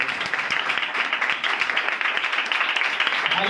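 An audience at a Hindi-language evangelical church gathering applauds loudly for the evangelists: steady, dense clapping that fills the room without a break for several seconds, with no voices over it.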